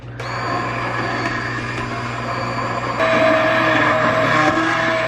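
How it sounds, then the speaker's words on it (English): An immersion blender whirs steadily at a high motor pitch, its tone shifting slightly as it churns through thick, partly chunky soup, with a low hum underneath. "Do is take our immersion blender and just blend this up."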